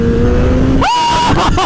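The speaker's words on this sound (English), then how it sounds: "I got a throttle, I'm on this super bike." A superbike engine holds a steady note, then revs sharply upward under throttle partway through, loud and close, climbing to a higher whine before easing.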